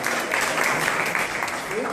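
Faint, continuous clapping from an audience at a Mumia Abu-Jamal support gathering, with a voice speaking over it the whole time.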